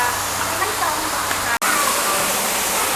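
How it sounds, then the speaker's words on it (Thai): Waterfall at a dinosaur fossil museum park in Nong Bua Lam Phu, a loud, dense, continuous rushing roar of falling water up close, cut by a brief dropout near the middle. "มีน้ำตกด้วย"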